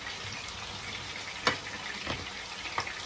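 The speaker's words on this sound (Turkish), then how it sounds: "Şöyle sarımsakları da kızartayım." Garlic fries in a pan in a home kitchen, giving a steady soft sizzle punctuated by a few sharp clinks of stirring.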